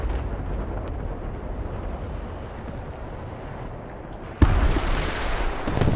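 Bombs explode in a tank video game with an M48A2, a dense rumbling barrage that bursts louder and sharper near the end, with no talk.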